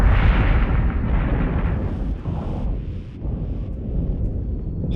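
Missile explosions rumble through a space battle in Battlestar Galactica Deadlock, a loud continuous low roar of blasts and bursts with no talking over it.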